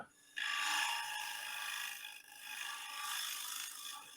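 Close, steady rasping of a gouge shear scraping a wood surface, two long continuous scraping strokes with a brief pause between, fairly soft and alone without talk.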